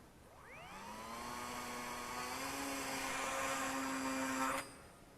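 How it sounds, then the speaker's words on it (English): Brushless-converted Eachine Mini P51D Mustang RC plane motor whining up to a high, steady buzzing pitch, holding loud and close for several seconds before cutting off sharply. "a couple more flights on our brushless Eachine Mini P51D"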